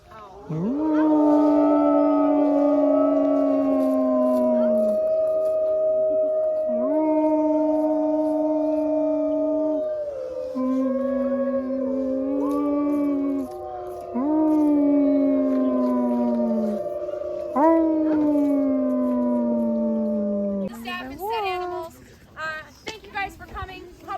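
Several wolves at a wolf park howl together in long, overlapping, sliding wails that rise and fall for a sustained stretch, loud and close, ending in shorter yips.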